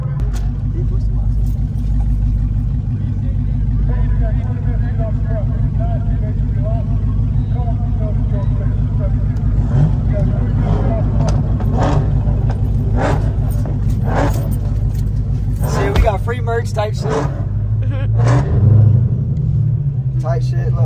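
A Dodge Challenger SRT Demon Gen 2 rumbles with a deep, steady low drone throughout a busy street car takeover, with people talking and crowd noise over it.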